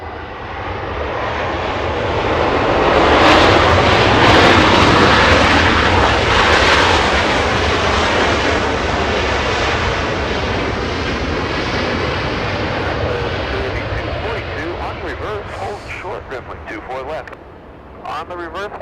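A Southwest Airlines jet takes off from runway 24 Left at Los Angeles International Airport, its loud engine roar swelling to a peak and then slowly fading as it climbs away, while people talk over it.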